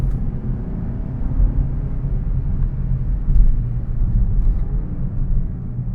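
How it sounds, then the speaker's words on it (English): A 2022 Mazda3 engine holds a gear and downshifts while climbing a hill around a turn, giving a steady low interior drone with a brief swell in revs midway and no talk. "Nice downshift there."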